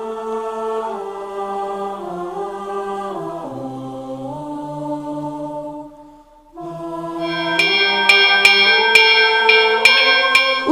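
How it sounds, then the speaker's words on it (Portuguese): Church bells in Ribeirão Preto ring out in sustained, resonant tones that shift pitch in slow steps, then after a brief lull a brighter peal strikes repeatedly with clanging overtones. "Os sinos que ainda batem ecoam por vários cantos"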